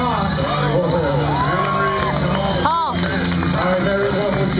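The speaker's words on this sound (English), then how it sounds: "Let's cheer her on." A crowd at a roping demonstration in Pelican Park whoops and cheers for a girl named Mary Smith, a steady wash of shouts and yells with a few voices rising above the din throughout.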